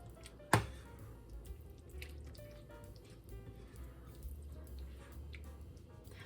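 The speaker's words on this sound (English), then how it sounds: "Yeah, I think I'm going to add another cup of water to this." Water is poured from a cup into a pot of hamburger rice, opening with a sharp splash and followed by quiet trickling and bubbling, close and alone.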